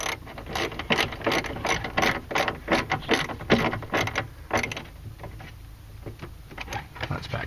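A ratchet tightens the power antenna nut on a Mercedes R129, a rapid series of close, loud clicking bursts in uneven strokes that slow and fade toward the end.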